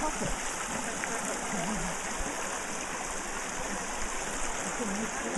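A creek flows with a steady, rushing babble of water, constant and close, with no break throughout.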